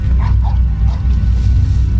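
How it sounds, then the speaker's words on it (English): A dog barks in the Harry Potter and the Prisoner of Azkaban PC video game, giving a few short, close barks over a heavy, low background rumble. "That sounded like a dog."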